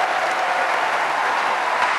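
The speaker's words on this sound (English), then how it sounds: "a blue devil round of applause for your head coach, Mike Krzyzewski" A large crowd of Duke basketball fans applauds head coach Mike Krzyzewski after his final home game, a dense, even wash of clapping that stays steady and loud for the whole short stretch.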